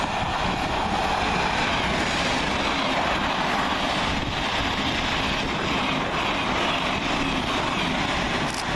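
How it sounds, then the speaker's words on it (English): Class 700 Thameslink electric train passing through Hassocks station in Sussex, a steady, loud rushing roar of wheels and traction that holds at full strength throughout. "right on that thing's heels is 700-106, working 9 Sierra 26 from Brighton to Cambridge via London St Pancras International."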